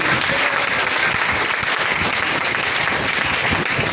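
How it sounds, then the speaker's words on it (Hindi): Loud, dense audience applause fills a hall for the whole stretch at a business meeting, a steady unbroken roar of many hands clapping with no talk over it. "जोरदार ताली"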